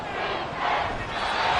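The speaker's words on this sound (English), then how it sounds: "this crowd doing their best to make a lot of racket" A football stadium crowd during an NFL game between Dallas and Washington, roaring and making racket as a steady, dense wall of noise without pauses.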